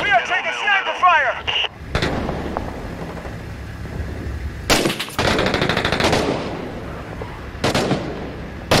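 Sniper and automatic gunfire in the war video game Six Days in Fallujah: heavy, dense bursts of shots and booming impacts roll on almost continuously, with sharp loud cracks punctuating them, after a brief stretch of radio-like chatter at the start.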